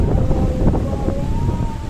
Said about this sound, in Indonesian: pantai yang ada di Pariaman ini dilanda oleh angin kencang atau badai dari arah Samudra Hindia